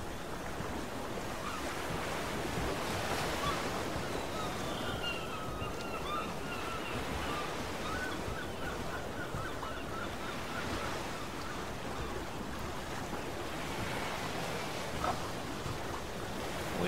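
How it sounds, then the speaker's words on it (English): Steady, dense rushing water fills the scene, like a waterfall and stream churning continuously, with faint bird calls in the background. "look at this waterfall over here"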